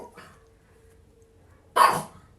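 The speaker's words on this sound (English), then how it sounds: "all the dogs in the neighborhood are barking now." After a faint tone and quiet pause, a dog lets out one sharp, loud bark, not far off.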